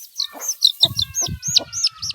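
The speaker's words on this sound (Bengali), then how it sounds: "দেখো এটা হচ্ছে আসিল মোরগের বাচ্চা" Aseel chicks peep in high repeated chirps while a hen clucks low and close in short bursts, the two calls overlapping in a quick uneven rhythm.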